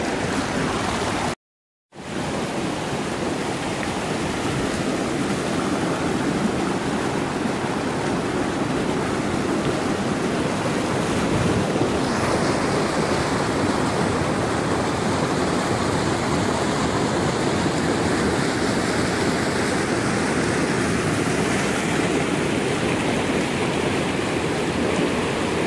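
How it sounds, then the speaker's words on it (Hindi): Water rushes steadily through a mountain village canal, a loud, continuous broadband roar close by with no voices, broken only by a brief dropout near the start. "नहर में पानी बह रहा है"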